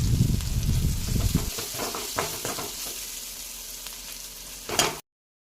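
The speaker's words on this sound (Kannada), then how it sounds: "ಮಮ್ಮಿ ನೋಡ್ರಿ ಬೆಂಡೆಕಾಯಿ ಪಲ್ಯಕ್ಕೆ ಒಗ್ಗರಣೆ ಹಾಕತ್ತಾರ" Tempering frying in a pan for an okra stir-fry, an intense close sizzle at first that settles into a softer steady hiss with a few stirring scrapes and a short clatter before it cuts off.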